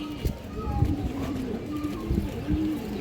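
Pigeons, including a silver cock pigeon, cooing at close range in repeated low throaty phrases, with someone talking over them.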